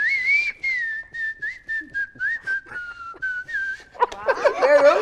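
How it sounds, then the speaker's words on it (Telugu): A man whistles a film song on stage at a comedic event, a clear melodic whistle in short phrases with breaths between, close and fairly loud, ending as laughter and crowd noise rise. "చెప్పు విజిల్ లో ఈ పాట."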